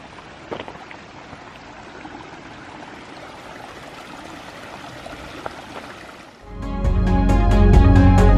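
Webb Creek flowing through a redwood forest, a steady soft wash of running water with faint scattered knocks, swelling abruptly louder and closer near the end as if the stream is right beside.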